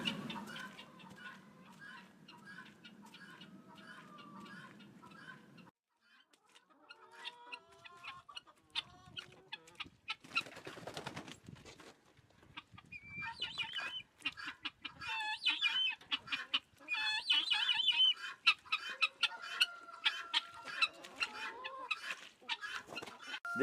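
Several roosters crow and hens cluck in a farm pen during muddy Maine spring, calls overlapping at moderate distance, some louder bursts, with scattered quieter moments between.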